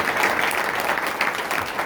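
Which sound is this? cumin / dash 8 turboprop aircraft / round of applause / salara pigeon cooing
round of applause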